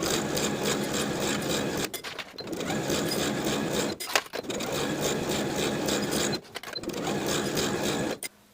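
A sewing machine edge stitching a dress hem runs in steady, loud whirring stretches, stopping briefly every couple of seconds before starting up again, close and alone.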